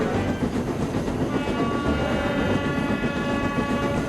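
Railway engines haul extra trains from a harbour, producing a loud, continuous rolling rumble with rhythmic wheel clatter and sustained tonal hums. No voices are present.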